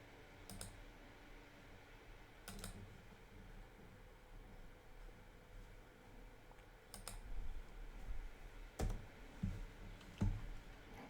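Sparse, faint clicks of typing on a computer keyboard sound against quiet room hiss, growing into denser bursts of keystrokes toward the end.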